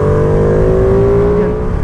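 A 2020 Ducati Panigale V2 motorcycle engine revs loudly and close up, with a quick-shifter blip in a brief burst of strong, steady engine drone.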